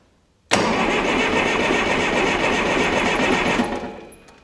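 Starter motor cranking the 23C engine of a Ford FE35 tractor, a steady whirring grind that kicks in abruptly, runs loud and even for about three seconds, then winds down and fades.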